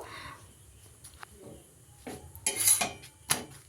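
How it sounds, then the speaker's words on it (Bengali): Maida flour rotis are cooked one by one in a pan in a home kitchen, with scattered metallic scrapes and clinks of utensils against the pan and a few louder clatters near the end, no talking. "তো এক এক করে আমি সমস্ত রুটিগুলো ভেজে নিচ্ছি"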